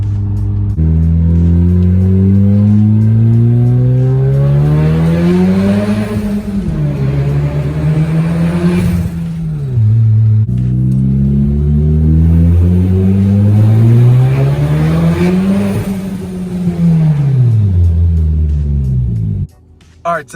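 Turbocharged Audi A4 accelerating hard in two loud, close pulls, engine pitch climbing steadily then dropping off as the throttle lifts, with turbo flutter on release and a voice talking underneath.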